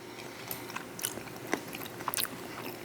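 Someone bites and chews a mouthful of red quinoa and black bean salad with lime juice and cilantro, soft, close crunches and mouth sounds at an irregular pace in otherwise quiet surroundings.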